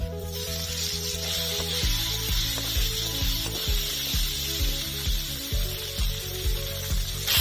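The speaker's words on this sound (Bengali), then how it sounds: "পেঁয়াজ কুচিগুলো হালকা লাল করে ভেজে নিয়েছি দিয়ে দেবো টমেটো কুচি" Chopped tomato goes into a pan of onions already fried light golden, setting off a steady, close frying sizzle that runs throughout, with a low hum and soft scraping underneath.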